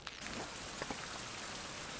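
Steady rain falls outdoors on an island survival site, a dense continuous hiss of drops hitting surfaces, with a few brief louder patters near the start.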